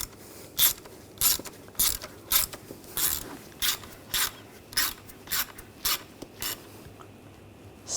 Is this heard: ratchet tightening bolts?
yes